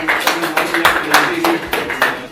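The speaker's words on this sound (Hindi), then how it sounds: "जोरदार ताली" Audience applause at a promotional event with prize presentations, a burst of steady clapping with rhythmic peaks, moderately loud and close, with a faint voice under it.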